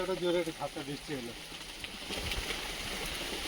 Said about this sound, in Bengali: হঠাৎ রোদ বন্ধ হয়ে বৃষ্টি